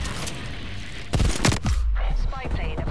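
A turret fires in a video game, producing a rapid string of close, loud shots in the middle of the clip, preceded by quieter game noise and followed by a lingering ringing tail.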